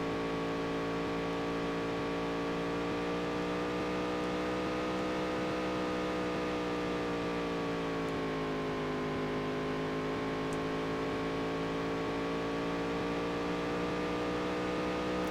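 A race car engine in the Dirt to Daytona video game drones steadily through practice laps, a continuous tonal hum that dips and rises gently as revs shift, heard alone at moderate level.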